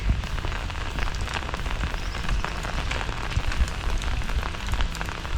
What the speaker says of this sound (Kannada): ನಿನ್ನೆವರೆಗೂ ಸ್ವಲ್ಪ ಕಡಿಮೆ ಇತ್ತಂತೆ ಮಳೆ.